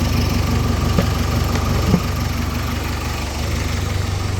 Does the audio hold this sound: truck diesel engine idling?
yes